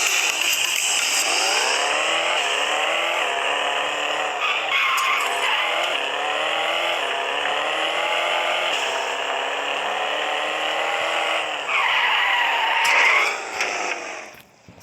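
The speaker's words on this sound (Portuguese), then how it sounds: "Vou aumentar aqui só pra vocês escutar o barulho do carro que vem." A car engine in a video game airport setting, revving at a high, raspy pitch that rises and falls steadily and stays close and loud, with a brief surge near the end before it cuts off.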